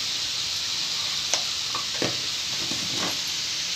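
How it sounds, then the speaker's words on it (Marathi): A spoon stirs salted bitter gourd pickle in a pan, giving a soft sizzle with a few scraping strokes and light clinks against the metal, faint and close, with no talk. "चांगलं हलवून घ्यायचे"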